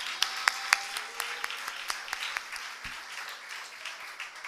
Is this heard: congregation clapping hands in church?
yes